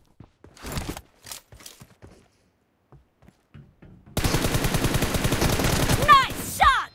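M4 rifle fire in a video game: a few sparse shots and footsteps first, then a long, loud sustained burst of rapid automatic gunfire with echoing tails, and a voice briefly calling out near the end.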